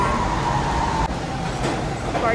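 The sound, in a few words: train arriving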